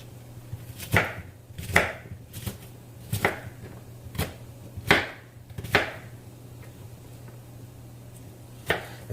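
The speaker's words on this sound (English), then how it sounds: "I want to go ahead and chop these onions up" A knife chops onions on a cutting board in a home kitchen: about nine sharp, close knocks, mostly spaced under a second apart, with a brief pause before the last, alone over a faint steady hum.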